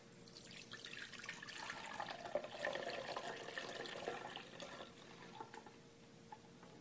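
Fruit juice being strained, a steady close wash of trickling, splashing liquid that swells in the middle and thins toward the end, with no talking.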